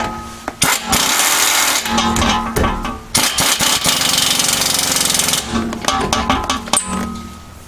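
Small 3/8-inch impact wrench hammering in loud, close bursts, rapid rattling runs broken by short pauses.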